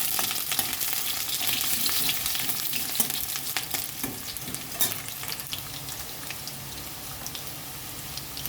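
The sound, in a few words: large potato pieces frying in mustard oil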